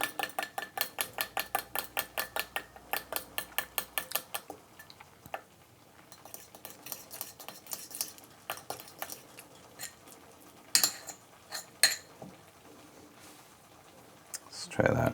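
A utensil scrapes and clicks against a bowl while mixing mashed Damietta-style fuul, a rapid regular rhythm of close taps for several seconds, then slower scattered knocks and clinks.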